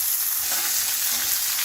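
Mustard seeds sizzle and crackle in hot oil in a pan while tinda sabzi is cooked, a steady, dense frying hiss that fills the whole short stretch with no talk.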